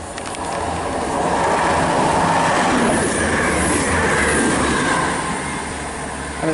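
Class 175 passenger train running through Pontyclun station on the South Wales Main Line, a loud, close rumble of wheels and engine that swells and holds, with faint rail squeal and clatter, no voices.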